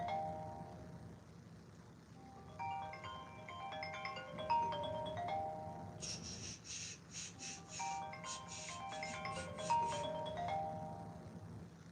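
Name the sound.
phone ringing with an incoming call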